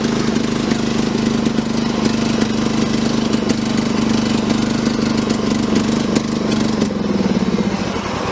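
A cheap Troy-Bilt riding mower's gas engine runs steadily and loud up close, with a constant low drone that holds throughout and eases slightly near the end.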